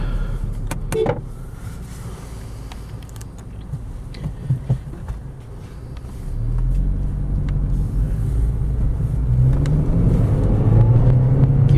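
Engine of a 2014 Honda Civic Si with a six-speed manual transmission while driving, a steady low drone that swells louder and deeper around the middle and keeps climbing toward the end, heard alone without talk.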